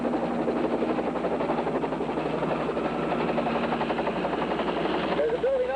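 Police highway patrol helicopter flying overhead, a continuous pulsing rotor drone with engine whine that holds steady throughout and sits under faint voices.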